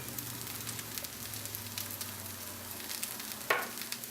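Mustard greens sizzle softly as they cook down in olive oil in a pan, a quiet steady fry with a low hum underneath and one brief sharper crackle near the end.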